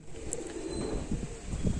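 A pigeon coos softly and fairly close by, its low, murmuring calls running steadily over a quiet background.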